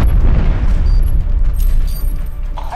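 A bomb explosion during a video game search-and-destroy raid, a loud sustained low-frequency boom rumbling through the whole moment with crackling debris.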